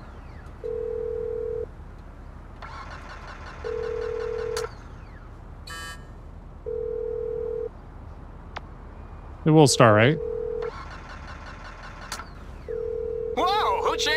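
Mobile phone ringtone in Grand Theft Auto 5, a repeating electronic melody that plays in evenly spaced bursts over a steady dial-like tone, while someone speaks briefly and other game sounds cut in.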